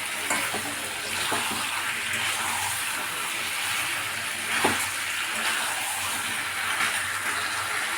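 Water streams steadily into a pot of simmering chicken on a gas stove, a continuous close pour with a brief splash near the middle and no voices.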